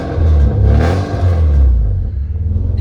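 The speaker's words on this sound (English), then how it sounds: "Listen to this exhaust." A loud, deep exhaust rumble as a 1992 Porsche 968 four-cylinder engine revs up and eases off, close by and steady, with a faint clack at the end.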